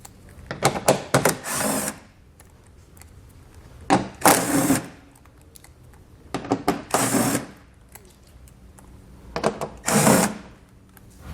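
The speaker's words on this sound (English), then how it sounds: "We're going to have a total of 5 screws that we need to remove. So I'll take a 10mm socket and pull those out." A 10mm socket on a power tool backs out screws from the trim of a 2020 Toyota during a Curt trailer hitch install, in four short bursts of whirring, each about a second long, separated by quiet pauses.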